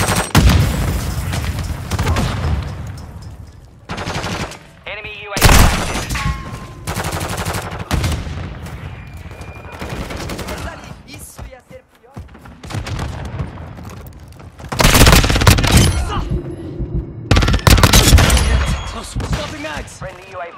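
Automatic and single gunshots in multiplayer Call of Duty Modern Warfare 2, loud bursts and booming reports coming in repeated volleys with short lulls, while game voice callouts sound in between.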